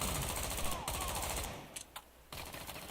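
Rapid automatic gunfire in the video game XIII, dense bursts of shots loud and close, briefly dropping away before resuming, with a little talk mixed in.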